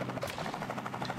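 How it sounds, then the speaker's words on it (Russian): A helicopter in the military base-building game One Military Camp hovers with a steady rhythmic rotor chop, fairly faint beneath a constant wash of game ambience. "Вертолет только шныряет."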